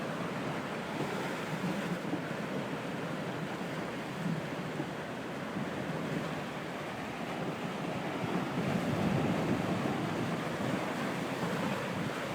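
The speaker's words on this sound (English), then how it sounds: "The Hudson River looking like the Atlantic or the Pacific Ocean." Wind-driven waves on the Hudson River in New York during Hurricane Sandy in 2012, a steady loud roar of surf and gusting wind buffeting the microphone, swelling slightly near the end.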